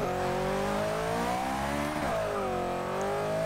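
In Forza 6, an Ultima GTR 720 launches hard through first gear, its engine wailing loudly as the pitch climbs, dips at a shift, then climbs again, with no speech over it.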